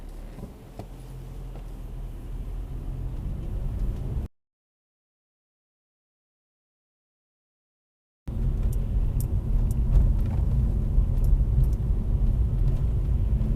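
Car interior during a driving test in Abington, Northampton: a steady low road rumble and engine hum as the car moves, interrupted by a few seconds of complete silence before the drone resumes, slightly louder.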